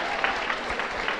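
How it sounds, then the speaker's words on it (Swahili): A crowd of students in a school gathering applauds a classmate's attempt, producing a brief, dense burst of clapping at moderate loudness. "Pige makofi kwa kujaribu tu."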